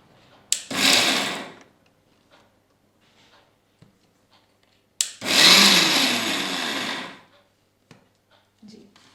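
A kitchen mixer grinder whirs through ingredients in two loud bursts, the first about a second long and the second several seconds, with quiet gaps and small clicks between them.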